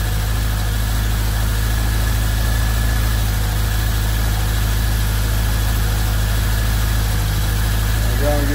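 A BMW K1100 motorcycle engine idles steadily while its throttle bodies are being synchronised, a constant low mechanical hum with a faint whine that carries on unbroken for the whole stretch.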